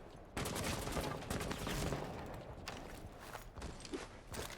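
Rapid gunfire crackles through a video game match near the main stairs, a dense, continuous burst of shots and clatter with only brief dips, sustained and fairly loud throughout.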